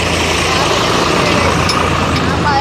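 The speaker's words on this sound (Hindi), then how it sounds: "जा रहा है ट्रैक्टर" A tractor drives past on a village road, its engine a loud, steady, close rumble that fills the whole moment, with a voice nearby over it.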